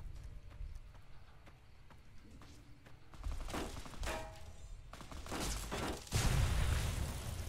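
Gunfire in the video game Fallout New Vegas: several sharp, loud bursts of shots arrive in quick succession, the later ones heavier, over a low rumbling game background.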